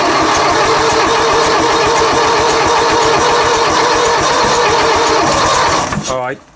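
Sixty-year-old bulldozer diesel engine turning over, a loud steady rhythmic churning that runs for several seconds before dying away with a rattle, no talk heard.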